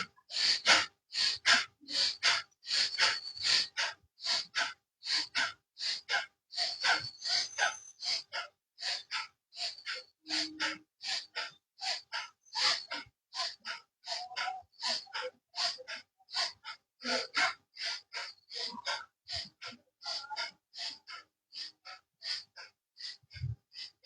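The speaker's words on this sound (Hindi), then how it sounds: "चलिए भस्त्रिका करेंगे।" Rapid, forceful bhastrika yoga breaths push in and out through the nose in a fast, even rhythm, dozens of sharp bursts in a row, close and alone.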